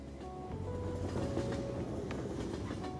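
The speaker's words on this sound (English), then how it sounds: "The train's stopped." Train ride in the video game Persona 5 Royal: a steady low rumble of rolling carriages with faint rhythmic clicks and a soft hum, continuous and even throughout.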